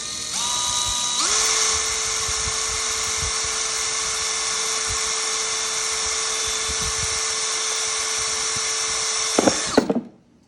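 Power drill boring a hole in the top of a plastic part, a loud close steady whine that shifts pitch early as it bites, holds for about eight seconds, then grinds briefly and stops.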